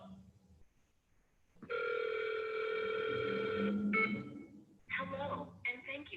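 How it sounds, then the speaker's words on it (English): Telephone keypad tones as a number is dialed: a long sustained tone, then a shorter one, a pause and a final burst of tones, with faint voice at the start. "I actually just wanted to like call this phone."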